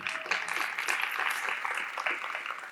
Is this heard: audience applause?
yes